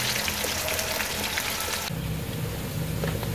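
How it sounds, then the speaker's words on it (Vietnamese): Taro pieces frying in a pan of hot oil, a steady close crackling sizzle that runs on alone without a break. "Mình chiên sơ phai môn nó các bạn."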